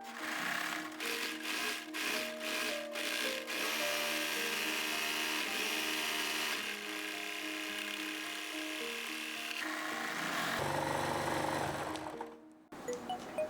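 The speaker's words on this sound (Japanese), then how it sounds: "脇にロックミシンをかけます。" An overlock serger runs along the side seams of a scalloped-lace culotte skirt, a steady fast mechanical whir that stutters briefly in short bursts at the start, then runs continuously with a shift in pitch near the end.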